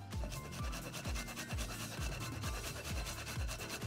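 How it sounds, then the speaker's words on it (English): Fresh unpeeled ginger rubbed on a small cheese grater over a bowl, about a dozen rhythmic scraping strokes in quick succession, close and clear with no talk. "I'm just using a little like cheese grater over the bowl."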